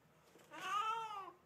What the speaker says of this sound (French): Cat with rabies.